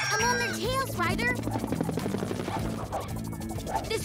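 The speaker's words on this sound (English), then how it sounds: "This drone is flying too wildly to catch." A drone in a cartoon whirs with a rapid, pulsing rotor buzz as it flies erratically, layered under excited speech and background music.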